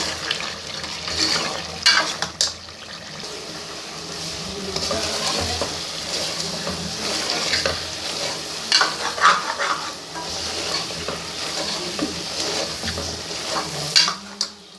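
Meat being stir-fried in a pan with cumin, a steady sizzle and frying hiss with repeated scrapes and stirs of a utensil against the pan, continuous and close, with no talking.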